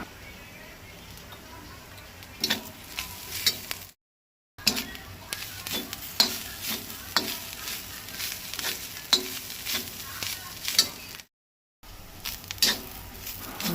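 Grated coconut and onion roast in a pan for a Goan teryache tonak, a steady dry sizzle punctuated by repeated sharp clicks of a spoon scraping and stirring, with two brief dropouts of silence.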